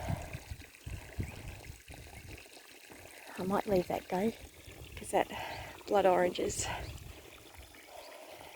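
A garden hose pours water onto the ground beside a blood orange tree, a soft, steady trickle heard under someone talking nearby.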